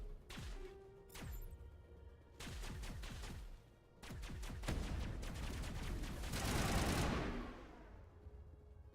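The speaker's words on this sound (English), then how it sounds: "Oh, that's you shooting." Rapid gunfire from a Mass Effect battle, bursts of repeated shots in several volleys with a louder, dense crash of fire near the end, no talking.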